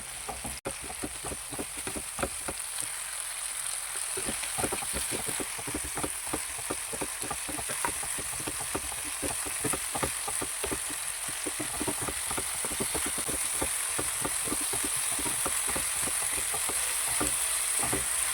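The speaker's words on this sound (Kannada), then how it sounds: "ಟೊಮೆಟೊ ಸಾಫ್ಟ್ ಆಗೋವರೆಗೂ ಫ್ರೈ ಮಾಡ್ತಾ ಇರಬೇಕು." Onion and tomato fry steadily in a pan for a restaurant-style capsicum curry gravy, a constant close sizzle with quick scraping stir clicks throughout and no talking.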